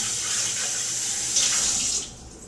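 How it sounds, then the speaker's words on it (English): Tap water runs steadily into a cocktail shaker as it is rinsed out, a loud close gushing stream that cuts off near the end. "I need to rinse out the cocktail shaker."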